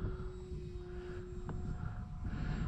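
A Skynetic Shrike RC sport glider flies under electric power at about half throttle with takeoff flaps set, giving a faint, steady motor drone over open-air background noise.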